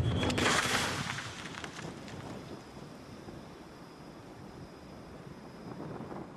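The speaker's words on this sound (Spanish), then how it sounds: "El tubo de metal estallaba cuando salía por la boca del cañón" A cannon firing canister shot at a Waterloo-era battle, the metal canister bursting at the muzzle: one loud, sharp blast right at the start that fades into a long rumbling, windy tail.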